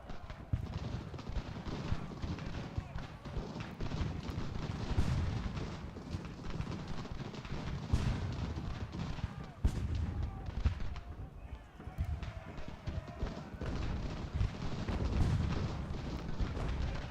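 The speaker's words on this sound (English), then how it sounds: "I wish the artillery would not just default to shooting" Artillery rumbles through a battle in the video game Ultimate General: American Revolution, with repeated booming shots and layered volleys over a constant din of combat, and faint voices mixed in.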